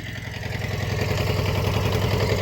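A Kubota B5001 tractor engine idles close by with a steady, low, rumbling chug that holds even and continuous throughout, with no voices.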